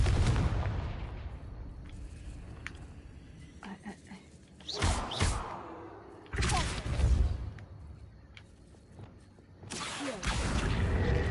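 A Confringo blasting spell goes off in a Harry Potter video game, several loud whooshing booms and explosive bursts spaced a few seconds apart over a rumbling game background.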